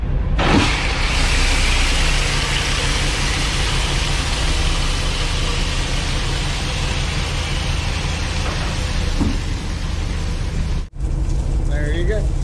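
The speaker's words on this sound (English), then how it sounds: "I'm gonna pop the tailgate open and just ease off on the clutch and just let the truck do the work" A dump truck engine idles loud and steady in first gear while the tailgate hangs open and the load dumps out with a continuous rushing hiss, broken by one brief dropout near the end.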